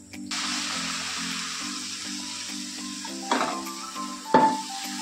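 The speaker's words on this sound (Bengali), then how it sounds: "তরকারিগুলো দিয়েও এর সাথে নাড়াচাড়া দিয়ে নেব।" Boiled vegetables are stirred into a frying egg curry, dhaba style, with a steady close sizzle and two distinct scraping clatters of the spoon against the pan near the end.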